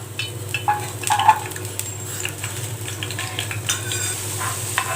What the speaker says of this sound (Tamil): இப்போ கொஞ்சம் டீப் ஃப்ரை மாதிரி பூண்டை நம்ம ஃப்ரை பண்ணி எடுத்துக்கலாம்